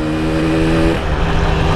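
Yamaha RX King motorcycle on a test ride near Bogor, its engine droning loud and close with steady harmonic tones that shift and drop as the revs change, with no talk over it.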